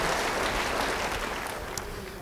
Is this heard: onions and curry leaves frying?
no